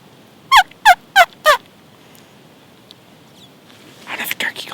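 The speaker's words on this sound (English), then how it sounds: "There's turkeys about 100, like 200 yards away" Four rapid gobbling calls from wild turkeys sound in quick succession at a distance, roughly 100 to 200 yards off, in Wisconsin, followed by quiet and then faint whispering.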